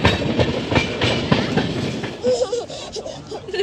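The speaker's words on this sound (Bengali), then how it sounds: "প্রায় 10 মিনিট লেটে কিন্তু ট্রেন চলছে" The 12840 Howrah Mail, an AC two-tier Chennai to Kolkata express, runs on the tracks with a close rhythmic clickety-clack of wheels over rail joints and rumbling carriages. A few faint squealing tones come in toward the end.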